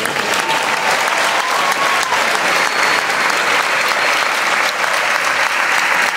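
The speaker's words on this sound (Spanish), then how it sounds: "Vestuaristas, asistentes, toda la gente que no se ve, fuerte el aplauso." Loud, dense theatre audience applause for the backstage crew at the final performance of a Dracula production, sustained and even throughout without a break.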